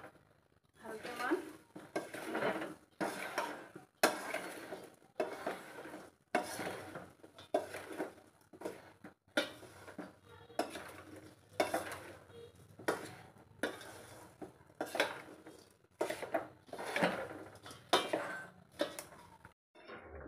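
Chili pickle spice mixture being stirred in a bowl, with repeated scraping and clinking strokes of a utensil against the dish in a steady rhythm, close and fairly quiet, while someone talks over it.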